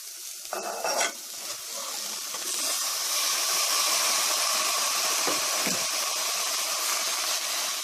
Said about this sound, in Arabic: راح أضيفه فوق البصل وأخليها شوية تحمس وياه